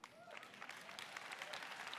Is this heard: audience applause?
yes